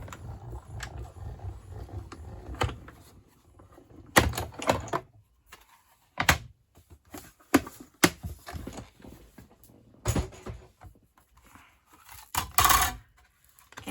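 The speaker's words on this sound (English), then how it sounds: "run it through my Stampin' Cut Emboss machine" A Stampin' Up Cut and Emboss machine is cranked with a paper card piece inside, giving a series of sharp mechanical clicks and rattling bursts in an irregular rhythm, close and fairly loud with quiet gaps between.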